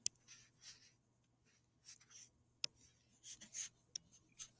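A pen writing out values on paper, with faint scratchy strokes in short separated bursts and a couple of light taps, quiet and close with no talking.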